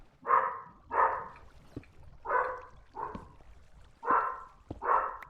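Boomer, a dog, barks six times in a loud, evenly spaced series of deep barks, close by with no talk over them.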